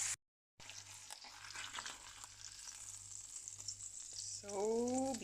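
Trout pan-frying for a garlic and lemon butter dish crackles with a continuous, fairly quiet sizzle after a short silence, and a faint tonal sweep appears near the end.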